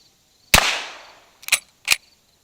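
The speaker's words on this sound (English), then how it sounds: "we're going to do 2 shots with the 1873 in 38 Special" An 1873 lever-action rifle chambered in 38 Special fires outdoors: one loud crack with a lingering echoing tail, then two shorter, sharper reports in quick succession.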